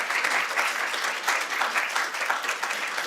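Audience applause welcoming two speakers at a book talk, a steady, dense wash of clapping from a sizable crowd lasting throughout, with no talking over it.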